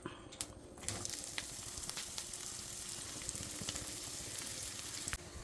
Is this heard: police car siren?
no